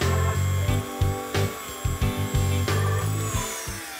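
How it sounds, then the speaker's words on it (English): A Dremel rotary tool whines steadily at high speed while cleaning the wheels of a Hornby Class 37 model locomotive, the pitch dipping repeatedly as the bit presses against the metal in short rhythmic bursts. "Let's cut to the chase and use the Dremel."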